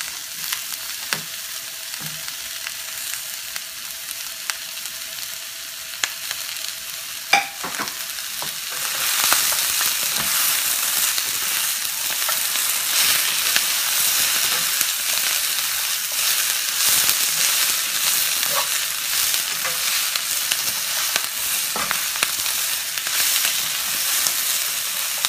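Beef strips for Mongolian beef hit a hot pan and break into a loud, steady sizzle that fills the rest of the stretch, with occasional scraping taps from stirring; no one talks.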